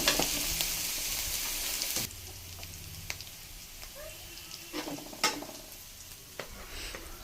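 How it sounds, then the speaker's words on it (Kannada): Garlic fries in a pan for cabbage palya, a soft steady sizzle that drops quieter partway through, punctuated by a few faint spoon scrapes and taps, with no talking. "ಬೆಳ್ಳುಳ್ಳಿ ಹಾಕಿದ ಮೇಲೆ ಹಸಿ ಸ್ಮೆಲ್ ಹೋಗೋವರೆಗೂ ಚೆನ್ನಾಗಿ ಫ್ರೈ ಮಾಡ್ಕೊಳ್ಳಿ"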